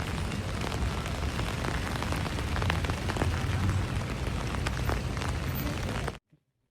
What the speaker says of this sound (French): Là, comment il pleut.